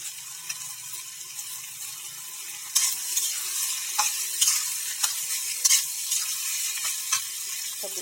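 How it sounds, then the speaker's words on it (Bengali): Cooked rice being fried and stirred in a pan, with a soft sizzle throughout and a louder, busier scraping hiss from the third second onward, punctuated by irregular spatula strokes close by. "আর একটু ভেজে নেব।"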